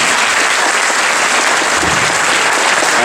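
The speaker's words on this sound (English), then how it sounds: "give her a round of applause, please" Audience applause at a high school JROTC Veterans Day ceremony: a loud, dense, steady wash of many hands clapping at once, filling the whole clip without letup.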